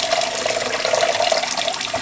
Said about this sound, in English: thanks for helping wash the dishes